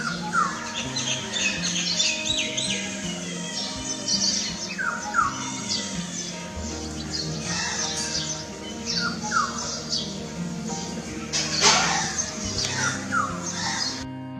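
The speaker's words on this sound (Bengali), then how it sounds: "এখানে আমরা একটু এই পাখির ডাক শুনে নেব।" A black-hooded oriole calls among dense birdsong, its squawks and whistles overlapping with other chirps and caws in a busy, continuous chorus, with no speech.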